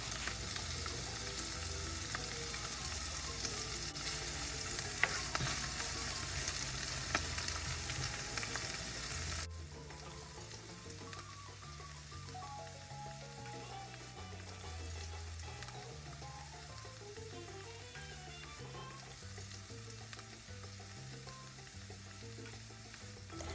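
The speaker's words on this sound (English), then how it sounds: "I'm adding 3 tablespoons of olive oil to a pan, and I'm going to start sauteing my vegetables until they're soft" Vegetables sautéing in olive oil in a pan for Cuban black beans give a steady close sizzle and crackle throughout, louder in the first part, with occasional stirring and no one talking.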